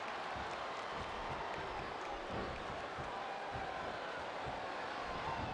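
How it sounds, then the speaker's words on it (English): Steady crowd roar from a WWE SmackDown vs Raw 2008 steel-cage match between John Cena and Batista, a dense, continuous wash of cheering and applause throughout with slight swells, mixed under faint arena sound. "I cannot remember the last time I've seen a crowd this pumped up"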